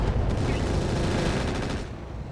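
Weapons fire from battling mechs in the BattleTech game Roguetech, a dense, loud continuous barrage of overlapping shots and impacts that thins out near the end.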